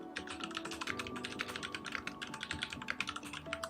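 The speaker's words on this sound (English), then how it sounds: "It's it's clicky as mechanical keyboards are" Continuous fast typing on a Cooler Master CM Master Keys Pro S mechanical gaming keyboard, dense clicky keystrokes in a steady close-up patter with no voices.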